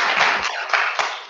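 An audience claps briefly in answer to a remote speaker at a DataFest celebration event, a short dense burst of many hands with a couple of sharper taps standing out.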